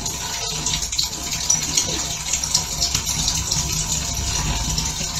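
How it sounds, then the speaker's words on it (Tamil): Running tap water gushing steadily as country chicken pieces are rinsed by hand for a home-cooked curry, a continuous close splashing flow with no talk. "தண்ணியில ஃபர்ஸ்ட் அலசிட்டு"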